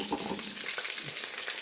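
Batter-coated oyster mushrooms frying in hot oil, a steady dense crackling sizzle with small bubbling pops, close and continuous throughout.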